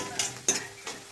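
Fish pieces frying in a pan, a close sizzle with two or three quick scraping stirs of a utensil against the pan.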